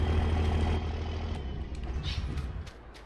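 A heavy 1993 work truck idles in Farming Simulator 19 with a deep, low rumble, steady and fairly close, with a few faint clicks over it.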